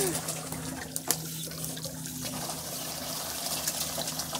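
Water pours steadily into a container at a homestead, a continuous splashing rush with a low hum beneath and occasional knocks, filling the whole stretch at even loudness.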